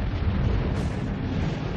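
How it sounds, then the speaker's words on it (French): A deep, loud roaring blast stands for a gamma-ray burst explosion, a dense sustained rumble that swells slightly partway through and stays strong to the end. "Une explosion de rayons gamma ou sursaut gamma."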